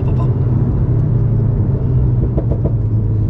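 A car in sport mode downshifting while slowing, its engine giving a loud, steady close rumble with brief rising revs and pops near the end, with no talk.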